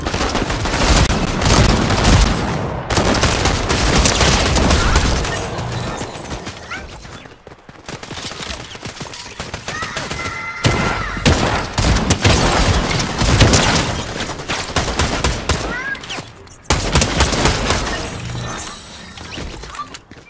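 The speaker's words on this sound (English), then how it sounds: "They're shooting right here. I can hear the gunshots." Dense, loud bursts of rapid gunfire and booming impacts in Fortnite zero build, with shattering crashes, nearly continuous with brief pauses between volleys.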